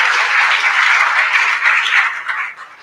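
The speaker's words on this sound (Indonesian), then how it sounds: "Berikan tepuk tangan buat Tuhan." Applause from a congregation at a church service in a Jakarta prison, a full, steady burst of clapping that carries for a couple of seconds before tapering off.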